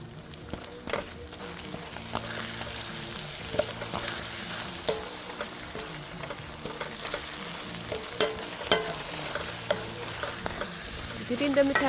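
Cabbage fries dry in a pan with a spoonful of salt and korerima, giving a steady close sizzle broken by repeated scrapes and stirs of a spoon across the pan, with no talking.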